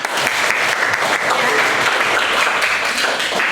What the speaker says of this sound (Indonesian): Tepuk tangan buat Ella.